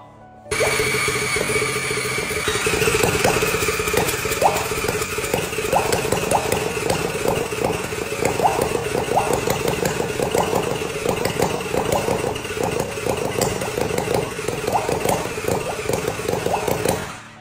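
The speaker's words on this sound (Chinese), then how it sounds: "來，第二台引擎準備啟動。" A dusty 1990 Honda CBR motorcycle engine, oil added for compression, cranks steadily on its starter without catching, a long run of rapid rhythmic chugging over a whining motor, close and loud.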